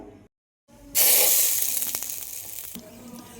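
Egg puffs laid into a pressure cooker greased with melted butter set off a sudden, loud, bright sizzle after a moment of silence, then a steady hiss with crackles that slowly fades.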